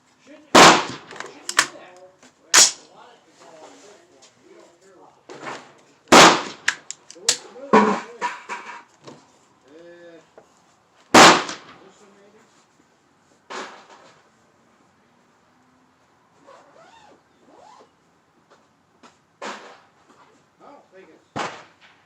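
A rifle fires M855 green tip rounds down range at 200 yards, giving several sharp, loud cracks spaced seconds apart with echoes trailing off outdoors, and someone talks between the shots.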